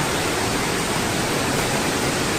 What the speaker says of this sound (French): à cause du bruit du torrent